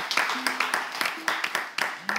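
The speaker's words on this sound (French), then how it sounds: "On applaudit" Audience at a Togolese radio or TV prize-draw show clapping for a winner, a thin patter of handclaps with a faint tone underneath and no speech.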